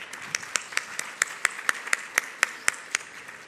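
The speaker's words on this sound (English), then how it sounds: "Can we have a round of applause for..." A small audience at a climate tech summit claps for speakers on stage, a sparse, fairly regular series of distinct hand claps standing out over a quiet room, rather soft overall.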